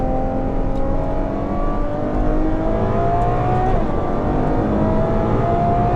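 A Ferrari F12 TDF engine screams under full-throttle acceleration, a loud, rising roar that stays dense and intense throughout, with gears climbing steadily.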